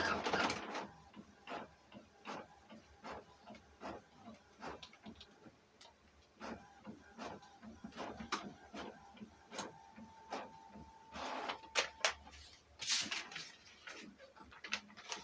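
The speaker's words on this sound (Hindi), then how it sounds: "एकदम बन दबाल का ब्लैक एंड व्हाइट प्रिंट हो" An Epson printer runs a black-and-white print job alone, with steady rhythmic mechanical clicks and ticks of the feed and print head, moderately close, with a few louder whirring bursts near the end.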